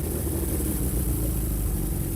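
A motorcycle engine idles roughly while coming off the choke, a steady, close, low mechanical rumble with an uneven pulse and constant hiss, alone with no talk.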